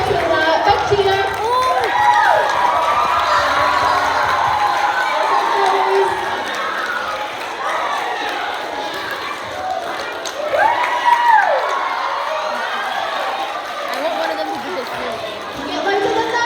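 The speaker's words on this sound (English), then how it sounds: "Big cheer." Schoolchildren at a school football kit launch cheer and shout in a loud, sustained crowd roar, with rising whoops and voices over a continuous din.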